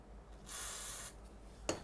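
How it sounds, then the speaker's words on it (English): A single continuous hiss of WD-40 penetrating spray aimed at a stuck part on a cheap Suzuki Katana motorcycle, lasting about half a second, fairly close and faint, followed by a small clunk. "Bit of WD-40."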